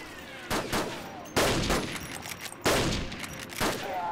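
Bursts of gunfire in a WWII-era video game set on the Berlin front, fired as suppressing fire: four loud, close volleys spaced about a second apart, each trailing off into echoing rattle.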